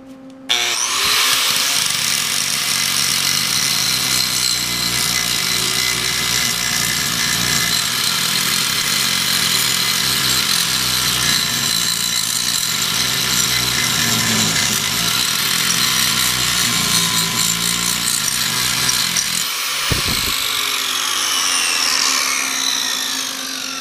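A power grinder bites into metal in one long, loud, continuous screeching whine, held close for over twenty seconds with only a brief dip near the end and no voices.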